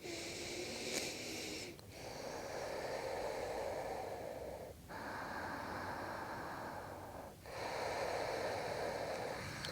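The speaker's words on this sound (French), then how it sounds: "Prends encore 2 respirations." Slow, deep, steady breathing during a vinyasa yoga routine, long airy inhales and exhales close to the mic, with three brief pauses between breaths.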